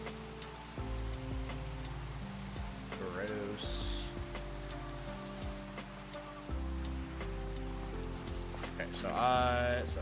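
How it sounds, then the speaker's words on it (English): Video game rain falling steadily as a constant hiss under background music and game effects, with a person speaking briefly over it. "rains after I sleep"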